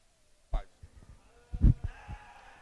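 Commercial ewes, Whiteface and Blackface, at a sheep show on a county fairgrounds in Richland County, Ohio, give two or three short bleats with quiet gaps between them, over faint hall background.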